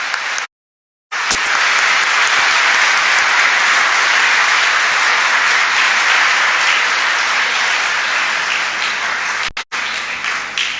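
Loud, sustained applause from a church congregation during a First Sunday of Advent Mass homily, dense clapping filling the space for about ten seconds after a brief gap at the start.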